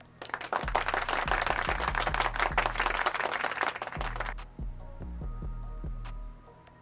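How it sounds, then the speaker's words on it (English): Applause from a basketball crowd after an NBA play-in game involving the Lakers, with dense clapping that runs steadily for about four seconds. It then thins out over rhythmic thumping beats in the background. "Reeves is going to get a round of applause."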